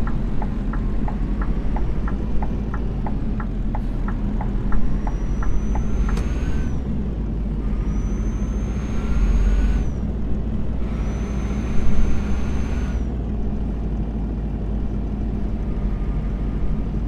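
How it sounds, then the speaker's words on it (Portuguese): Heavy Scania bus engine in a driving game rumbling steadily with a rising whine as it drives, plus sharp hissing bursts of air brakes at intervals. "eu ouço um som de caminhão"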